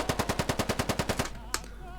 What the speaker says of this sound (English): the accurate automatic fire is much better than before